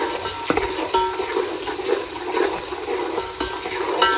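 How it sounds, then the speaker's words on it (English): Tomato chutney being stirred in a pan over a low flame, a steady bubbling, sloshing sizzle with occasional scraping knocks of the spoon, close and fairly loud. "Stir it for 20 seconds on low flame."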